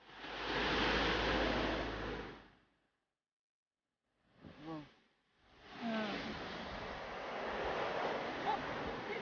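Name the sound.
sea waves at Gyeongpodae beach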